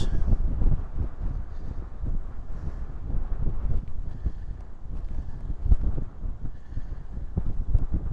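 Strong coastal wind off Scotland buffets the microphone in a continuous low rumble with gusty surges, steady and loud throughout with no voices.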